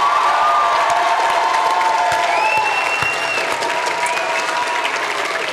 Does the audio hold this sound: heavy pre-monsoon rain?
no